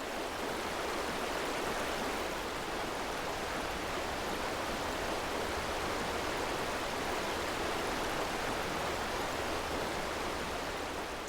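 Mountain river rushing near its source high in the Gotthard Massif, the young Ticino: a steady, dense broadband roar of flowing water, constant and fairly close, with no other sounds.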